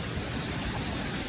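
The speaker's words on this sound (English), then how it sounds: "The hail's coming down pretty good." Hail pelts a truck parked in a Las Vegas driveway, a dense, steady rushing patter with no gaps and no voices.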